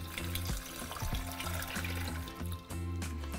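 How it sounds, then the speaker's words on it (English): Water pours into a saucepan holding chiles de árbol and white onion, a steady splashing stream with a rising fill and bubbly gurgles, close and continuous, with no talk. "We're going to cover them with water."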